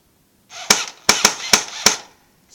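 Airsoft gun firing BBs in full-auto mode, five sharp snapping shots in quick uneven bursts over about a second and a half, close and loud.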